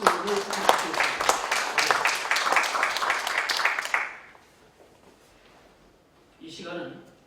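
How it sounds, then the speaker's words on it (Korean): Warm applause from a church congregation during a founding thanksgiving worship service, a dense burst of clapping that fades out after about four seconds, followed by near silence and a short faint rustle. "다시 한번 뜨거운 격려와 박수를 부탁드리겠습니다"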